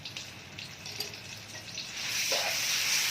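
Seasoning paste and three bay leaves sauté in hot oil, a faint sizzle that swells louder and brighter toward the end, with no voices.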